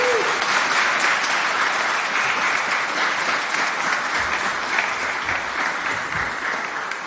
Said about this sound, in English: Let's give a warm round of applause for Administrator Zeldin.